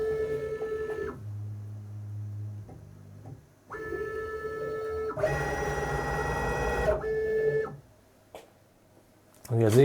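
A CNC machine measures tool 62 with a probe, giving off whining motor tones and steady stepping hums that start and stop in stages, with a loud burst mid-way and a person talking between moves.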